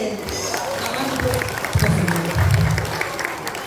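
Audience applause at a Balinese drama gong performance in the Penarukan wantilan hall, crowd clapping rising into a dense burst midway and holding steady with murmured voices and chatter underneath.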